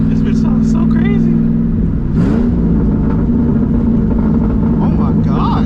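A modified 2007 Ford Mustang GT V8 engine loud and close, rumbling and revving through quick downshifts, with a rising surge partway through; a person talks over it.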